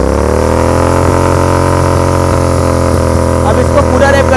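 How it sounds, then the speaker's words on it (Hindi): A 650 twin motorcycle with a Red Rooster exhaust revs up and holds a loud, steady engine drone near the microphone, with a brief rise in pitch toward the end. "अब इसको रेव करते हैं 5000 तक."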